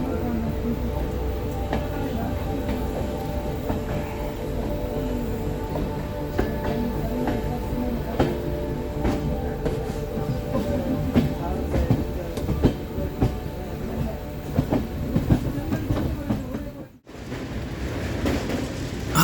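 Passenger train running on the Mangalore to Hassan rail route after the Western Ghats section, a steady loud rumble with wheel clatter and rattling carriages throughout, briefly dipping near the end.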